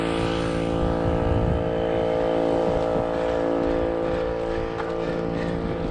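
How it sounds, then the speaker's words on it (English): An air compressor drones steadily on a roofing job, a continuous motor hum with a constant pitch and a faint background clatter, fairly close and with no talking. "And once the compressor shuts off, I'll kind of explain what I'm doing with the valleys here."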